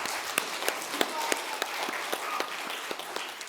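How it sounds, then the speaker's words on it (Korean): A congregation claps during a Sunday church worship service, a dense, even round of applause with a few sharper individual claps standing out, continuing without a break. "크게 한 번 더 영광의 박수를 돌리겠습니다."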